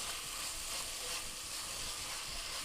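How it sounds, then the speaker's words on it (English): Steady sizzle and hiss from a pot of homemade vegetarian chili as tomato paste is stirred in over lowered heat, a soft continuous frying sound with no talking. "I'm stirring our tomato paste and let that cook and work it into a nice paste."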